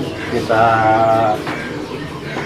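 Birds calling at the Sukahaji bird market in Indonesia, a steady warbling call rising clearly for about a second over the busy market murmur, with a person speaking briefly.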